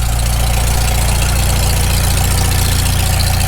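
A Farmall Super M tractor engine runs after a rebuild, a loud, close, steady idle with an even, rapid low thumping pulse throughout and no talk.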